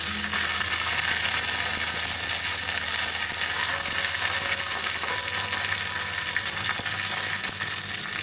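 Dry red chili and curry leaves fry in oil, a steady loud sizzle that stays constant and close throughout with no voices.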